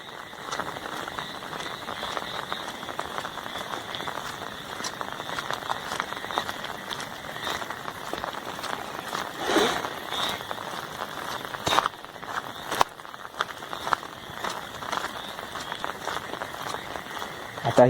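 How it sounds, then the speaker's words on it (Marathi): Heavy rain drums steadily on an umbrella held overhead in a village, a dense continuous patter close by, with faint insect chirps beneath it and no clear speech. "पाऊस पडतोय जोरात आणि मी छत्री घेऊन आहे."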